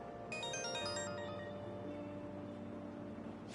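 Mobile phone ringtone in the video game Persona 5 Royal: a short bright melodic chime over soft background music, fairly quiet, then fading away.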